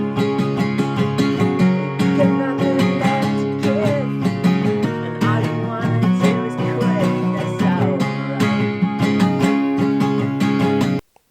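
A rough demo of a song, captured as a phone voice memo, plays as dense, continuous full-band music at steady loudness for about eleven seconds before cutting off abruptly.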